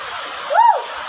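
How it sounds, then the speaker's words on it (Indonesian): Heavy rain falls over a residential housing area, a steady broadband hiss throughout, with a brief rising-and-falling whistle-like tone in the middle. "Hujan lebat, guys."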